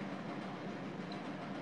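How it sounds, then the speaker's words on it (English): A New York City subway train rumbles past right next to an apartment, a steady, muffled roar of wheels and cars filling the whole moment with no talking. "Here's that hot train action."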